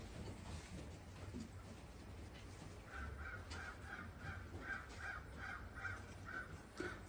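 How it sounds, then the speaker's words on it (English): A crow in the background near a racing pigeon loft gives a series of repeated caws, faint and distant over a low outdoor rumble. "And I love hearing that crow in the background."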